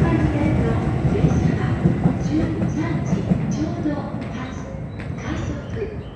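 JR Sobu Line commuter train pulling out of Funabashi Station, a steady rumbling roll of wheels and motors that stays loud throughout, with station ambience and talk faintly underneath.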